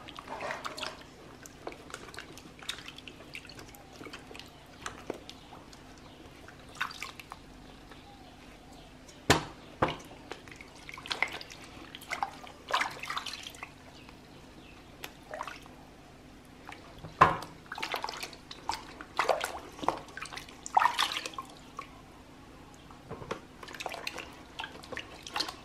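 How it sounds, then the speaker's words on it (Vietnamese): Papaya is rinsed under running water, with intermittent splashes and drips against a basin and scattered clunks of handling, close and moderately loud, in irregular bursts. "Đu đủ mình sẽ rửa qua nha các bạn."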